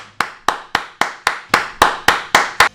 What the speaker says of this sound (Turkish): Daha yeni başlar başlamaz alkışlıyoruz